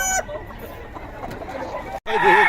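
Chickens and roosters at a Bocaue poultry market in the Philippines, with loud overlapping clucking and crowing close by and steady crowd murmur beneath, broken by a brief gap near the end.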